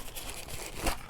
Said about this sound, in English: Let's get rid of the styrofoam.